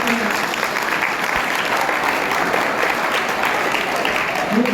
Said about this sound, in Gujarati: એ ટીમ, હાલો એ ટીમને જોરદાર તાળીઓ સાથે.